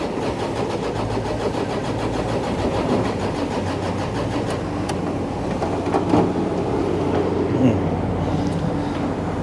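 A Bobcat E50 excavator's diesel engine cranks without catching, giving a steady, continuous starter churn with a fast rhythmic chug, fairly close and even in level throughout.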